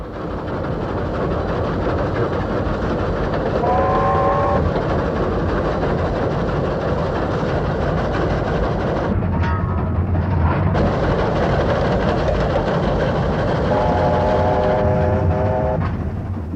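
Steam locomotive 3801 rumbles steadily along with a heavy, continuous roar, interrupted briefly by a hiss, with a horn-like tone sounding twice.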